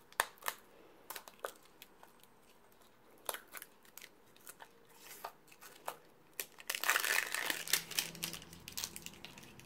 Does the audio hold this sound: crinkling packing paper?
yes